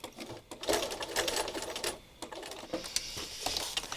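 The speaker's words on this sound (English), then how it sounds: "So I just stitched in place a little bit." A sewing machine stitches fabric in rapid, stuttering bursts of needle clatter, stopping briefly and starting again, close and clear with no talking.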